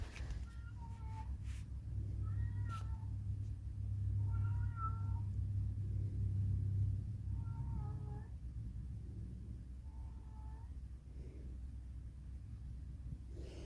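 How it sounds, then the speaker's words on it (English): A cat meows repeatedly, about six short calls spaced a couple of seconds apart, fairly faint over a low rumbling background. "He says, hello, hello, with his meow"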